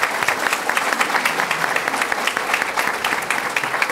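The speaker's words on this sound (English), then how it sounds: "Round of applause." A room applauds at a public meeting on Chicago's homicide crisis, a brisk, dense round of clapping lasting a few seconds with no talk over it.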